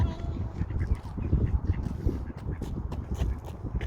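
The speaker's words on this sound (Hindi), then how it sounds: "ये देखो डक्स।" Ducks being fed alongside swans quack in short bursts among a busy outdoor background, with people talking nearby.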